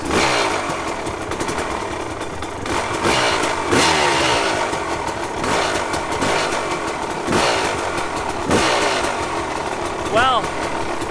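A KTM 300 XC-W two-stroke dirt bike, running on fresh reeds, sputters and catches after repeated kicks, then revs in uneven bursts and idles loudly nearby, with people talking over it.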